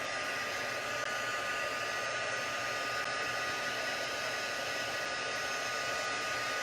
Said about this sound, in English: Takes a few seconds for the heat tool to heat up, but then you'll see that embossing powder begin to melt.